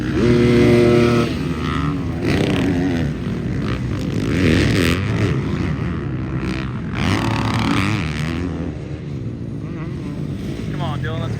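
Motocross motorcycles race around a track during a veterans race, engines roaring continuously and loud with wind buffeting the microphone. A voice speaks over the engine noise.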